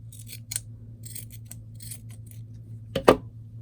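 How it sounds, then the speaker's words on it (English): Scissors snipping a small scrap of cheesecloth at close range, with a few soft rustles and short cuts followed by one sharper, louder snip near the end over a low background hum. "I think I'm going to cut a little scrap piece that I might use on this CD sleeve."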